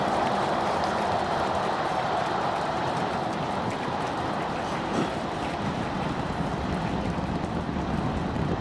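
SpaceX Starship Super Heavy booster with 33 engines firing during its Flight 7 launch, heard as a steady, dense, broadband roar that stays loud and unbroken throughout.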